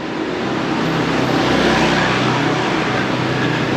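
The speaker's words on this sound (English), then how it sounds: "a nice little shortcut to get away from the traffic noise." Steady, dense traffic noise on a Bangkok street in the old European quarter, a continuous broadband roar of car engines with no breaks, fairly loud and close throughout.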